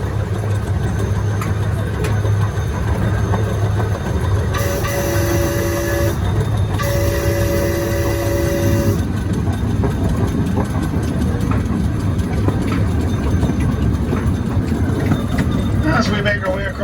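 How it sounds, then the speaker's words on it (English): A zoo train's heavy engine drones steadily with a constant low rumble of rolling rail noise as it crosses a trestle over an estuary at Santa Barbara Zoo, broken midway by two long bright horn-like tones. "As we make our way across the train trestle"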